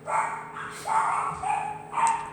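Riled-up dogs barking indoors, three short bursts of excited yips and barks close by.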